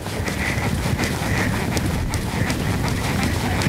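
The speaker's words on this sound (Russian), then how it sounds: "Теперь давайте разберемся, как начать движение рысью." Horse hooves beat at a trot during a riding lesson, a steady rhythmic clip-clop that carries throughout at moderate loudness over a faint background hiss.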